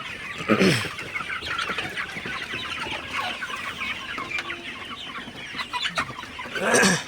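Sonali super hybrid chickens cluck steadily while drinking fresh cold water in the morning, a close, continuous chorus of fowl calls with louder bursts near the start and end.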